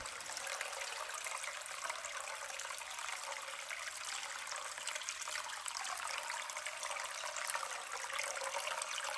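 Hot spring water pours steadily into a bathtub crusted with solidified mineral deposits at an oil-floating onsen in Japan, a constant close splashing trickle with no pauses and no voices.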